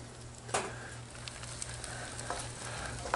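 Cilantro and finely sliced strawberry onion tops sweat in a pan on a Campmaid camp grill, giving a steady, soft sizzle with a few brief louder crackles and stirring scrapes, no voices.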